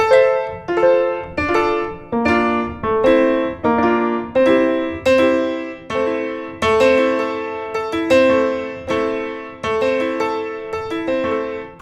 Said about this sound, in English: Pretty good piano